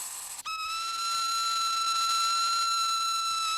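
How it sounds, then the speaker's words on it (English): A steam locomotive whistle sounds one long, steady, loud hoot after a brief opening note, holding its tone for several seconds. "Many had never heard the hoot of a steam whistle or the screech of brakes."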